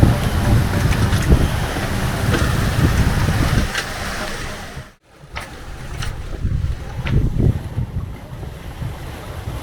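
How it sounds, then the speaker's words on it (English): Steady wash of water against sailboat hulls, heard from the trampoline, with gusting wind across the microphone, continuous and fairly close, dipping briefly to near quiet midway. "Tranquil sounds of water lapping the hulls calm my soul."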